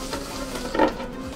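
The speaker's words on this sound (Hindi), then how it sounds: "एंड इसको अभी हम करने वाले हैं mix mix mix mix mix" Instant coffee and sugar being mixed by hand for dalgona coffee, a soft, faint scraping and stirring with one slightly louder swirl partway through, with no talking.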